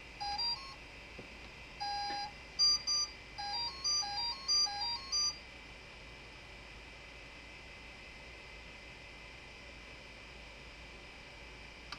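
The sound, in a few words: ESC beeping after battery connected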